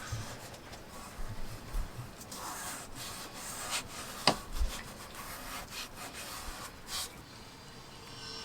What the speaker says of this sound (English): After filling in all the cracks, it was time to sand the surface.